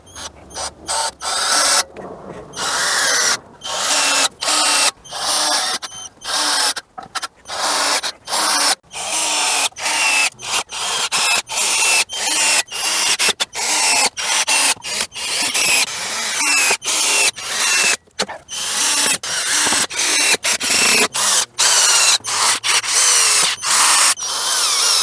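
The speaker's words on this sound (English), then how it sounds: "I've got to cut those boards to the size that I want." A power saw cuts treated 2x4 boards for a firewood rack. There are repeated loud whining bursts, each separated by a brief pause, as cut after cut is made close by.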